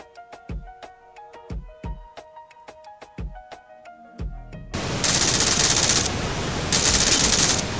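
Gunfire from the video game BGMI as an enemy squad is wiped out: a run of sharp, evenly spaced shots, then a loud sustained burst of rapid automatic fire with a brief break.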